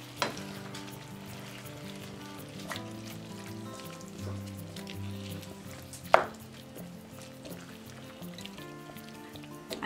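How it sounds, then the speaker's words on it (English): Zucchini and feta cheese frying with oregano in a pan give off a soft, continuous sizzle, with occasional scrapes and a sharp clack of a utensil as the food is stirred. "Give it a good stir."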